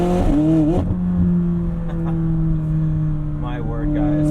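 A 2020 McLaren 600LT Spider's engine hums steadily and close by with the back window rolled down, a sustained drone that rises briefly at the start and again near the end, while someone talks over it.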